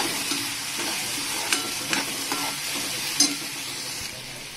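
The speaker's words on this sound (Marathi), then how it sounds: "आता हे सगळं मिक्स करून घेऊया।" A garlic and chilli mixture being stirred in a frying pan, a steady close sizzle with a few light spoon scrapes and taps, no talk.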